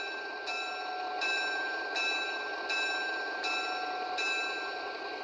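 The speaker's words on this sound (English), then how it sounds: "Bell." A Piko HO Krauss Maffei ML4000 model locomotive sounds its bell, ringing in six evenly spaced strikes about three-quarters of a second apart over a faint running hum, with no talking.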